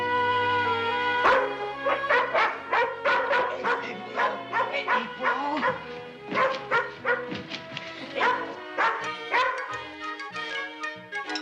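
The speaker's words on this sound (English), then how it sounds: "She's just being a watchdog, Joe" A dog barks repeatedly in a Western drama scene: a long run of sharp, fairly loud barks and yips in an uneven rhythm, with some whimpering between them and no talk over the barking.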